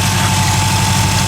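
A 1981 Subaru EA81 engine idles steadily up close, a continuous low, even rumble with a regular pulsing beat and no talk.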